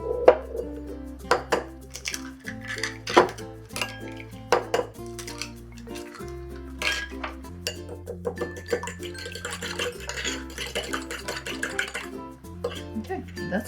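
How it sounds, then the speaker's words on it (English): A utensil clinks against a bowl while eggs are whisked, in quick irregular taps and chinks that come in bursts over steady background music. "let's whisk up the eggs"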